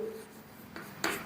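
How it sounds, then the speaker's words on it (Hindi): Chalk or marker scratches briefly across a board in a physics lecture, a quiet rubbing stroke followed by two sharper scrapes near the end, with no speech. "तो फटाफट यहाँ पर मैं लिख देता हूं कि"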